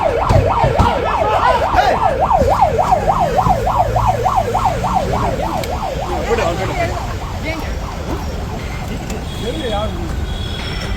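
A police vehicle's wailing siren rises and falls rapidly and steadily for several seconds, loud against traffic noise, then fades into the background rumble.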